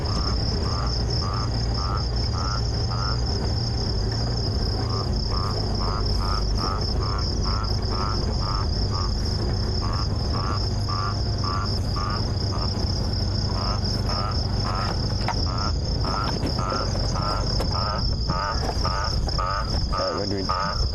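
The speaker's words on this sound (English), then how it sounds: "You can hear that toad quite distinctly" A toad calls in a steady, repeating pulse at night on a safari drive in the African bush, set against a dense, continuous chorus of crickets and insects that runs throughout.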